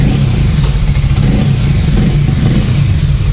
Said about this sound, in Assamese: এক্সজষ্ট চাউণ্ডটো এবাৰ শুনাই দিছোঁ চাওক